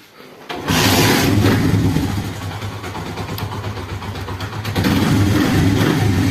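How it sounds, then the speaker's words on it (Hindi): A motorcycle engine cranks and catches after a short quiet moment, then settles into a steady, close, throbbing idle with a brief rise in revs near the end. "बाइक को करता हूं मैं स्टार्ट।"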